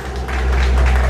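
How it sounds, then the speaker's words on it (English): A crowd at a talent show applauds, loud, dense clapping that swells slightly over about a second. "You got the whole crowd clapping as well."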